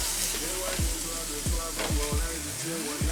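Broccoli and peppers frying in a pan, a steady close sizzle with a few clinks and scrapes of stirring on top, no talking.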